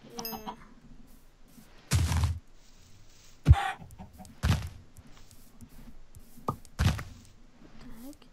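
Chickens in the Minecraft video game give several short, sharp clucks and squawks in separate bursts a second or two apart, clear and fairly loud against a quiet game background.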